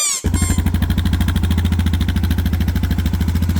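A Suzuki DR650 motorcycle engine catches after a brief starter noise, then runs at a steady, rapid thumping idle, loud and close, with no voices.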